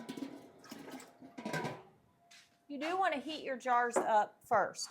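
Hot water from canning jars is dumped into a water bath canner, producing a rushing splash that runs beneath a person speaking close to the microphone.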